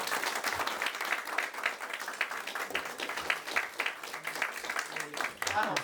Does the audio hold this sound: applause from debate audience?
yes